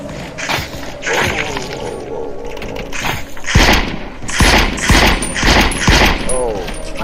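Submachine gun fire in the VR shooter The Light Brigade, sharp repeated shots that arrive in bursts with mechanical clatter, while a person talks over the shooting.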